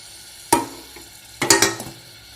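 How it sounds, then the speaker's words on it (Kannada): Chopped onion, tomato, mustard seeds and cumin fry in oil in a pan, a soft close sizzle broken by a few scraping stirs, two clusters of clatter against the pan, with no talking. "ಇದನ್ನೆಲ್ಲ ಫ್ರೈ ಮಾಡ್ಕೊತೀನಿ."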